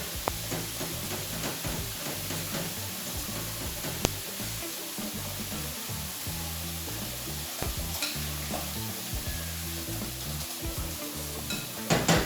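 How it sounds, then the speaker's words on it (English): Spaghetti carbonara sauce whisked in a pan, a continuous close sizzle and rapid stirring with a few light clinks of utensil against the pan, no talking. "Nice sauce, a quick whisk together."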